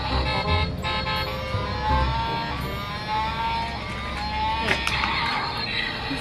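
A battery-powered toy mini cement mixer truck gives off electronic horn toots and tones, moderately loud and close, under someone talking.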